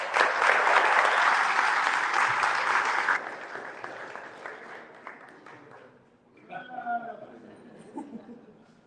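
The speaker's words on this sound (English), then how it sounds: "Give Sharif a hand of applause." An audience applauds the head coach at an under-18 men's ice hockey blazer ceremony. A loud burst of crowd clapping lasts about three seconds, then thins and fades, and a voice follows near the end.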